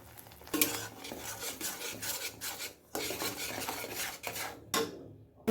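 Spices with salt and turmeric are stir-fried in a pan for palak paneer: bursts of rough scraping and rubbing from the spatula, with brief pauses between strokes and a faint sizzle underneath.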